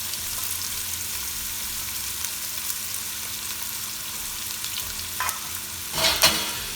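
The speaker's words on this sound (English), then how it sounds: "Brown this onion a little bit in this oil" Onions brown in hot oil for green pulao, a steady close sizzle with occasional scrapes of stirring and a louder clatter near the end.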